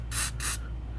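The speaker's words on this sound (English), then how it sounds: "you want to make sure you spray down everything" Two quick, hissing bursts of penetrating spray hit the rear sway bar links of a 2004–2008 Pontiac Grand Prix, close and loud over a low steady hum, then stop.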